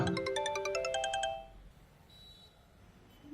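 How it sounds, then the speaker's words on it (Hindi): A bright electronic phone ringtone plays a quick melodic pattern for about a second, then stops, leaving quiet room tone. "किसका फोन है? माँ का फोन। तो उठाओ ना।"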